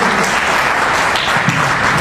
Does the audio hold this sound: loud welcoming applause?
yes